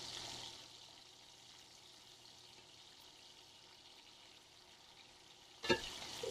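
Bacon grease fries in a pan on a home stove while cooking for biscuits and gravy, giving a steady, soft sizzle that holds throughout, with a brief clatter near the end.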